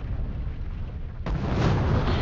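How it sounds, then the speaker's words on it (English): Explosions in PUBG Mobile, a battle royale shooter: a steady, loud rumbling barrage that jumps sharply louder partway through and keeps roaring with dense low booms to the end. "Look at all those explosions."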